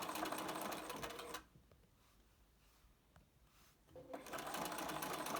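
A sewing machine runs in two short bursts along the edge of a fabric mask, a quick humming stitch with a quiet pause between them.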